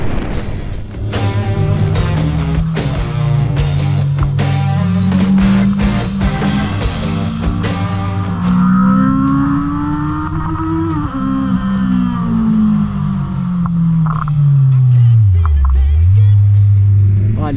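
Naked motorcycle, a BMW F 900 R or Honda CB 650R, accelerating hard, its engine climbing through gears with shifts and then a long rising and falling drone, loud and close with wind noise throughout.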